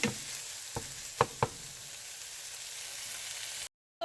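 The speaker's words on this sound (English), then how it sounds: "Let this on for a few more minutes just to finish up the browning process" Taco meat browning in a pan on the burner, a steady close sizzle with a few light clicks of a utensil, then it cuts off.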